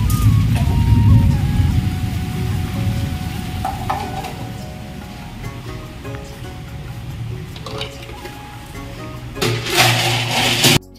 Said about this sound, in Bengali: ঝমঝম করে বৃষ্টি পড়ছে আর মেঘ ডাকছে